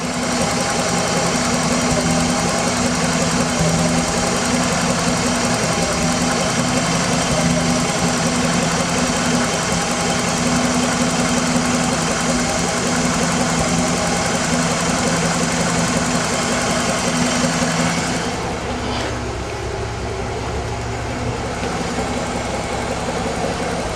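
A 30-year-old Nissan Z engine idles close by just after a timing belt job, running with a slightly rough, stumbling beat. The steady drone holds for most of the stretch, then thins and shifts near the end.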